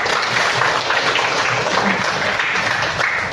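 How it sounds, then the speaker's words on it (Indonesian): An audience at a school counseling session claps for a student named Vika, producing a short, dense burst of applause that stays at an even level throughout. "Tepuk tangan buat Vika"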